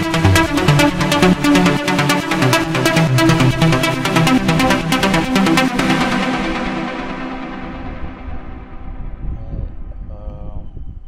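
A chillout trance main melody made in FL Studio plays as a bright repeating three-note synth pattern over a full mix, loud and steady before the highs fade and it thins into a quieter wash, with no voices.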